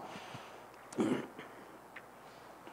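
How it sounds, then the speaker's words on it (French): A man still suffering the after-effects of COVID lets out a single short, muffled cough or throat-clearing in a quiet room. A faint click follows at the end. "Vous excuserez ma toux, c'est les effets de la COVID."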